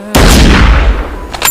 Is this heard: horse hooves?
no